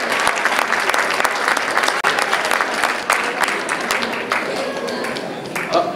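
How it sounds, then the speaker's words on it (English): A magic show audience claps loudly and continuously for volunteers, a dense close wash of applause that eases slightly in the second half, with some voices underneath. "Please give them a nice round of applause for doing a wonderful job there."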